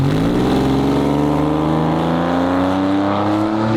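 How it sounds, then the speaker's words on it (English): A Porsche engine drones steadily with a loud, close exhaust tone that climbs smoothly in pitch as it revs up. "The exhaust tone, that's an easy fix."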